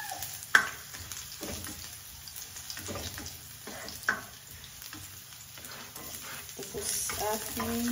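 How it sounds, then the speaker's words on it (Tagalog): Garlic sautés in a pan for ginisang sayote, a soft steady sizzle with a couple of sharp utensil clinks and a faint voice in the background. "Igisa na natin yung ating bawang."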